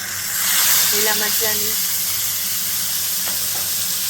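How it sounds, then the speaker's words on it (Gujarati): Green chilli, garlic and ginger chutney goes into hot oil seasoned with asafoetida and bursts into a loud, sustained close sizzle and hiss as a person speaks briefly over it. "હવે આપણે ચટણી નાખીશું"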